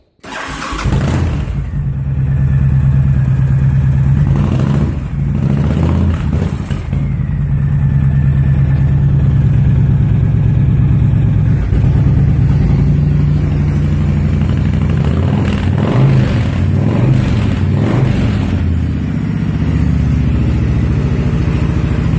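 A 2005 Honda VTX motorcycle with a Cobra slip-on exhaust and upgraded carb and air intake cranks and fires up, then idles loud and close with a deep, lumpy, uneven throb that lasts throughout.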